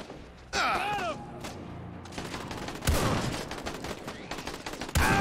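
Gunfire rattles in Dead Rising 4, with a sharp shot near the start followed by dense, rapid bursts of automatic fire and further heavy shots, loud and close.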